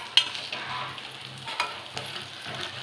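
Chillies stirred and frying in a pan, with a soft continuous sizzle and a few scraping stirs, moderately close and with no voices.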